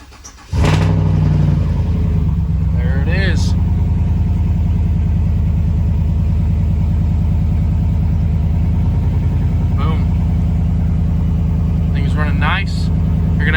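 A Gen V LT V8 cranks and fires up after a camshaft install, catching with a sharp burst and then settling into a loud, steady, rumbling idle close by, with brief clicks and taps over it.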